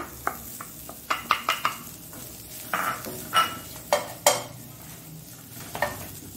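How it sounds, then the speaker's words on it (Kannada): A spoon scrapes and knocks against a pan as grated coconut and carrot are stirred and sautéed for a Mangalore-style carrot chutney. Irregular clinks and scrapes sound over a soft background sizzle, fairly close, with no talking. "ತೆಂಗಿನ ತುರಿಯನ್ನು ಹಾಕೊಂಡು ಚೂರು ಬಾಡಿಸ್ಕೊಳ್ಳೋಣ ಅಷ್ಟೇ ಸಾಕು"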